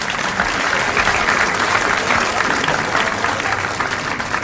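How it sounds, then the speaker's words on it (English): Dense, steady applause from a packed theatre house greets actor-manager Mr. Kemble in the title role, a continuous wash of many hands clapping at constant loudness throughout. "The applause was for the actor-manager, Mr. Kemble, who was in the title role."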